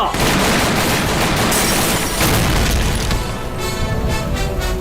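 A firing squad in an action movie opens fire, a loud, dense volley of gunshots and booms that is sustained and overlapping. Rapid repeated shots are heard near the end.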